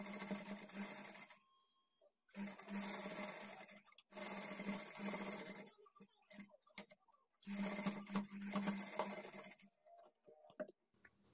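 A sewing machine stitches along a blouse edge in four bursts of steady running, separated by short pauses.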